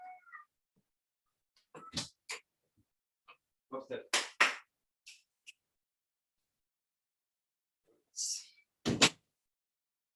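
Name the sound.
pet cat making noise wanting to go outside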